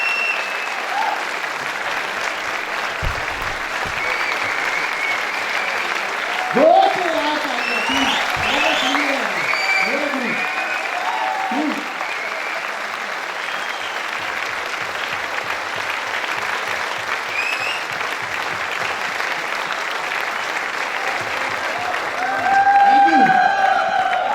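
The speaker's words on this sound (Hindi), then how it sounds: "मैं चाहूंगा कि दीपक जी के लिए एक जोरदार ताली हो जाए।" Audience applause fills a business opportunity presentation hall as a speaker is welcomed on stage, steady clapping throughout with brief voices and a few cheers rising near the start and end.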